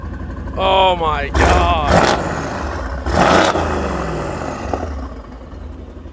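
Turbocharged BMW M2 engine revs hard in loud, rising bursts with a whirring turbo, sweeping up and falling back several times, while excited voices talk over it.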